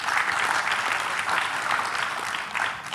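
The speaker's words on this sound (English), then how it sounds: "I think they deserve a round of applause for that" Steady, dense applause from a conference audience at a Gemba Summit panel Q&A on Kanban, sustained for the whole stretch with a full, even wash of many hands clapping and no talking over it.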